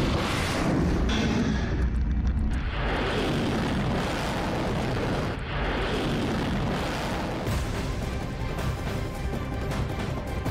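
Kalibr cruise missile launched from a ship in the Black Sea, a loud sustained roaring blast with rushing, crackling bursts that surge and fade over several seconds.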